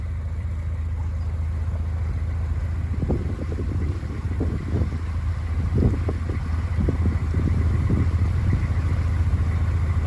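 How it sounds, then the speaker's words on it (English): Wind blows across the microphone on a calm river outing aboard a boat on the River Weaver, a steady low rumble and buffeting with irregular gusty bursts partway through. "There's a little bit of wind coming from behind, although it's quite calm on the river"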